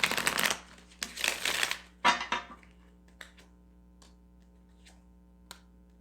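Tarot cards are shuffled in three quick riffling bursts, followed by a few soft taps and clicks as the deck settles in a quiet room.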